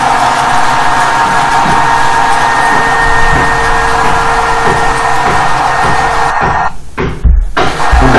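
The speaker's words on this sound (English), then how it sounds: "You can run two generator very well using single electric motor" A single electric motor drives two generators in a steady, loud mechanical whir with a constant hum and faint rhythmic ticking, briefly interrupted by a couple of clunks near the end.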